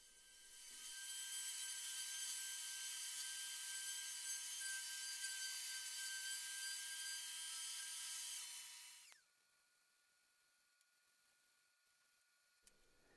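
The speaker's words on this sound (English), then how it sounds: "I'm just doing a rough 60 grit, followed by a 110, and then a final 220 grit sanding" A steady, high-pitched whir of power sanding on a wooden bookshelf part runs for several seconds at close range, then stops abruptly, leaving near silence with a couple of faint clicks.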